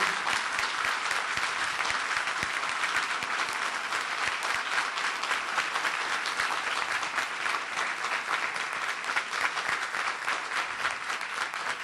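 Sustained, dense applause from a large audience at a national meeting of women bank workers, given as an emotional homage to Hugo Chávez; loud, steady clapping fills the whole stretch with no pause.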